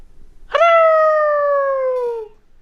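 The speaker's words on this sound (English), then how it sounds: "That was the wolf, Watson." A single long wolf howl rises sharply and holds a clear, steady tone for nearly two seconds before fading, loud and close against a quiet background.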